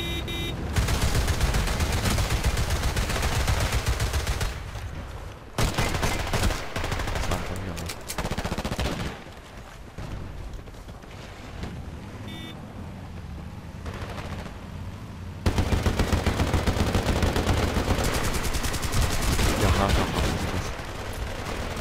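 LSAT light machine gun firing in Battlefield Play4Free, a German-language match, with long sustained bursts that break off and resume several times over about twenty seconds, loud and dense throughout.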